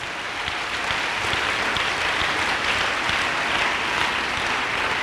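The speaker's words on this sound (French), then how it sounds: "Let's clap for Jesus Christ." A congregation at a church gathering applauds for Jesus Christ in a continuous, even roar of many hands clapping, loud and steady throughout with no pauses.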